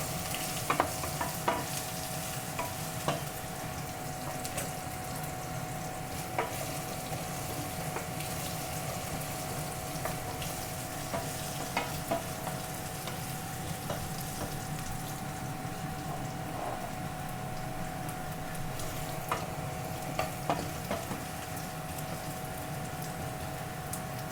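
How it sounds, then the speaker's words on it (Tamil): Ginger, mustard seeds and fenugreek fry in hot oil for tomato rice, a steady close sizzle with scattered sharp pops and crackles running throughout, no talking. "இஞ்சியும் கடுகு வெந்தயம் அதுகளையும் நல்லா பொன்னிறமாக இஞ்சி முதல்ல பொரியாட்டு"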